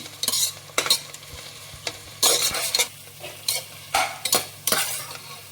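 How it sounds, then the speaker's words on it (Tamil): Onions and bay leaves sautéing in a pan for vegetable biryani. Repeated spatula strokes scrape over a soft sizzle, close and fairly loud, with no voices. "வெங்காயத்தோட பிரிஞ்சி இலை போட்டு வதக்கினோம்னா டேஸ்ட் நல்லாயிருக்கும்"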